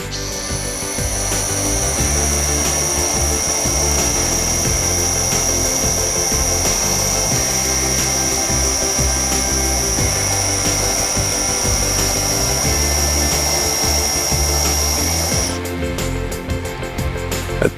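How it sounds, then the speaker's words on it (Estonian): A cordless drill with the hammer function switched off bores a hole in stone or concrete, a loud steady grinding whine with a high tone, running continuously for about fifteen seconds before stopping. "Ja võrdluseks puurime siia kõrvale ilma löökfunktsioonita augu."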